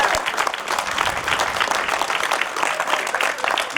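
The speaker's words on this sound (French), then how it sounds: "Vous pouvez les applaudir comme il se doit." A crowd at a French hill climb in Turckheim applauds the championship podium finishers, with dense, steady clapping throughout at moderate volume.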